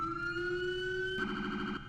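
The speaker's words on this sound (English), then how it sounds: "you can even fire up the siren" A police car siren from a GTA V LSPDFR mod wails loudly and steadily, a sustained two-tone electronic howl that shifts into a faster, warbling yelp partway through.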